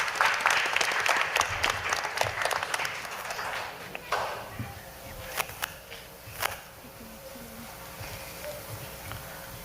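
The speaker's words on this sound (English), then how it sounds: "Let's give her a round of applause, please." Audience clapping at a family book quiz event swells briefly at the start and then fades to scattered claps, with a voice speaking over part of it.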